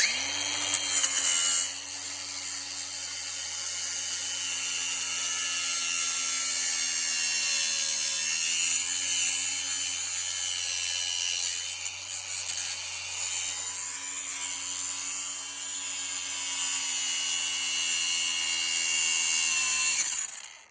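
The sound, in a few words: angle grinder cutting off motorbike parts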